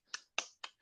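A lone person claps by themselves, three sharp, isolated hand claps spaced evenly with short silences between, faint and close with nothing else around them.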